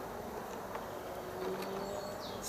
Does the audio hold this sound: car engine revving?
no